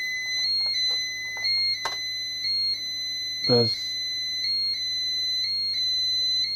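A Pyronix EURO-46 alarm panel sounds for an exit door with a steady, pulsing electronic tone, near and fairly loud, while people talk over it and a brief knock or clatter cuts in.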